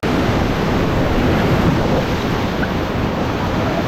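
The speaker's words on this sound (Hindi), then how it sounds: "देखना हमारी बोट के ऊपर बहुत तेज पानी का झटका लगेगा" Strong river rapids churn and crash against a rafting boat on a river trip, a loud, continuous rushing roar of turbulent water with wind buffeting the microphone throughout.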